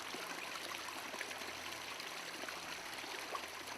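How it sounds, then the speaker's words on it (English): Spring water issues unaided from the ground and runs into a stream, giving a soft, steady trickle and babble throughout with no voices. "it's actually a spring, with water issuing unaided onto the surface"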